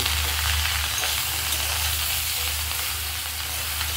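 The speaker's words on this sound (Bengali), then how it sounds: "নুনটা দিয়ে একটু এপিট করে নিচ্ছি।" Food frying in a pan just after salt goes in, a steady loud sizzle with stirring scrapes and a constant low hum underneath.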